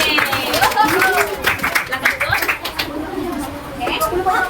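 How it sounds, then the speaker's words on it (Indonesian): A school class claps for a student group, a lively burst of clapping and cheering mixed with loud chatter and voices close by. "Tepuk tangan untuk kelompok Jasuke"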